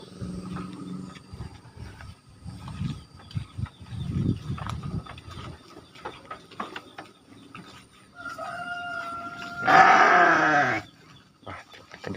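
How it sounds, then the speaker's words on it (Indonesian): A single sheep gives one loud, close bleat near a village rice field and irrigation ditch, after scattered outdoor knocks and rustling. "kedengaran suara domba sahabat ya."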